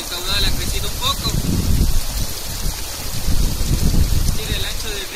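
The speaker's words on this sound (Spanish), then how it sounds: "Estamos en la época lluviosa y, como podemos ver, el caudal ha crecido un poco." The Pantaví river, swollen in the rainy season, rushes with a steady broadband wash and low rumble, while wind buffets the microphone and faint birdsong drifts in from the banks.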